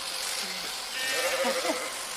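A sheep bleats a couple of times close by, wavering calls over a bright, noisy background with no clear speech.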